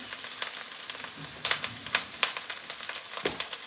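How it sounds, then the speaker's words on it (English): Garlic and ginger sizzling in a pan, a steady crackling hiss broken by sharp pops, close and fairly quiet, with no talking. "The sizzling that you can hear there is actually the sizzling of the garlic and ginger."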